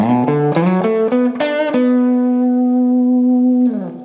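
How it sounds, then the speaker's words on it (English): A distorted electric guitar plays a quick blues-rock lick, several slid and picked notes leading to one long sustained note that rings out before a final bend. "getting started with lick number 1. It's gonna sound like this"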